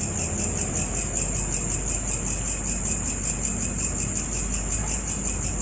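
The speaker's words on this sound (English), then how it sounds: "Grasshopper." A grasshopper chirps in a steady, dense, high-pitched insect trill that runs continuously at even loudness, with no voices.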